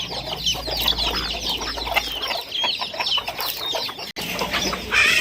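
Several chickens cluck and chatter busily at a rural family home in Laos, a dense, close, continuous flock noise with occasional wing flaps and no voices.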